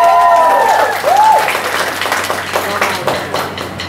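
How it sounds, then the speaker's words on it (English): Applause from a crowd at a college freshers day event, dense clapping that swells and then gradually thins out, with a brief voice and a whistle-like tone early on. "So a great clap, please, for Miss Madhuri."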